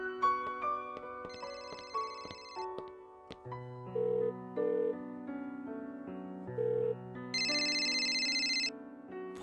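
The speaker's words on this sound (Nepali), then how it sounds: "फोन आइरहेछ" A phone ringtone plays alone, a melodic electronic tune of bright sustained tones with repeated short beeping notes and a higher chiming phrase near the end, fairly loud and close.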